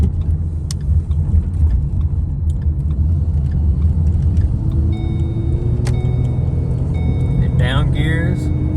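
A car fitted with a cheap $400 used transmission idles and rumbles steadily, then changes gear, with a rising engine whine and a shift near the end, while a voice talks over it.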